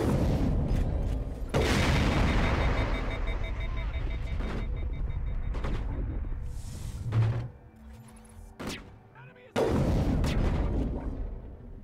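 A fuel tank blows up with a heavy boom among gunfire in the video game Mass Effect, with several loud blasts and impacts scattered over rumbling, mechanical background noise.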